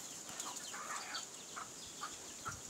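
Soft, repeated clucks from a Jamaican game fowl rooster, faint and close, over a quiet steady background hiss.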